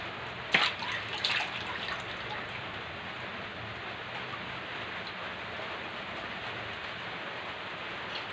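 Steady rain pours during a typhoon and southwest monsoon, a continuous broadband hiss that holds an even level the whole time, with a couple of brief louder splashes near the start and no voices.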